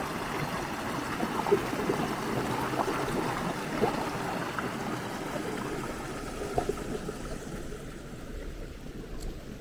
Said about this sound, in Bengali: একটু নিচে নেমেই শুনতে পাচ্ছিলাম নদীর জলের কুলকুল শব্দ